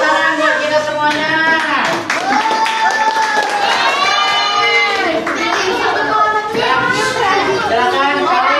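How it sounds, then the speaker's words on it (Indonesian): Children in a classroom clap together, the bursts of applause sounding close and steady and mixed with lively young voices chanting or talking over the top. "Nah, kita tepuk tangan buat kita semuanya."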